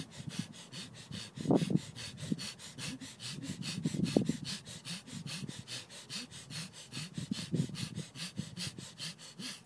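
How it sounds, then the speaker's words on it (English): Deep pranayama breathing exercise led by a yoga teacher, slow, loud, close breaths in rhythmic rounds of forceful inhales and exhales, with a steady pulsing background underneath. "so start breathing more."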